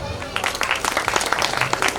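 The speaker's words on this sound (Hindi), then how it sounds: "एक बार नेहा जी के लिए जोरदार तालियों से भाई" Studio audience at an Indian TV comedy show applauds for the anchor Neha, a dense, steady burst of clapping that fills the whole moment at moderate loudness.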